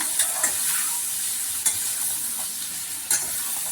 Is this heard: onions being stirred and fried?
yes